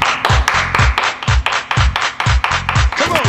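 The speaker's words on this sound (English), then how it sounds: "Everybody clap your hands." Hands clap in a steady, repeated rhythm over a thumping low beat, with sharp claps landing about three times a second throughout.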